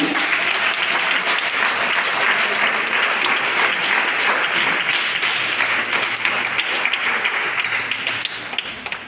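A church congregation applauds loudly and steadily, the dense clapping filling the whole stretch before it starts to thin out near the end. A faint voice sits underneath.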